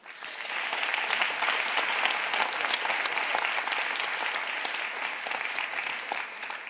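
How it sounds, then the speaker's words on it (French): An audience at a university Ma Thèse en 180 secondes final in Geneva applauds steadily, a dense round of clapping that swells quickly and holds before tapering slightly at the end. "On peut encore une fois l'applaudir."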